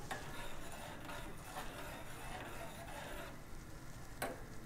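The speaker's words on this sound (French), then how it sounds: "Vous tournez avec une cuillère votre eau bouillante." A spoon stirring boiling water in a pan: soft bubbling and sizzling hiss with faint repeated scrapes and a sharp clink near the end, quiet and close.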